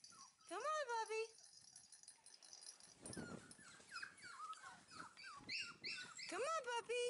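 Five-week-old Dalmatian puppies whimper in high, wavering cries at the start and again near the end, while a person coaxes them with calls and talk throughout.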